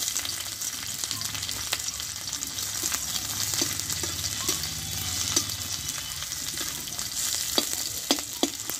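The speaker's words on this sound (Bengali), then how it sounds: "পেঁয়াজটাও ভেজে নেব।" Half an onion frying in a pan for a Bengali-style tomato bharta, a steady bright sizzle with occasional stirring clicks and scrapes, close and continuous with no voices.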